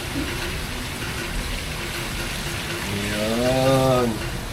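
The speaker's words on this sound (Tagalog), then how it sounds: "lalagyan na natin siya ng tubig." Water pours and sizzles into a hot cooking pan, a continuous rushing hiss that swells briefly near the end, with a voice speaking faintly underneath.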